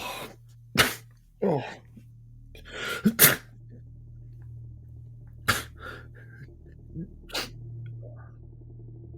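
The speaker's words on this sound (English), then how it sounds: "You wake, each one of you, in turn, in a racking fit of hay fever-like sneezes" A racking fit of hay fever-like sneezes: five or six sharp, explosive bursts come at uneven intervals over a low steady hum, with a brief spoken exclamation among them.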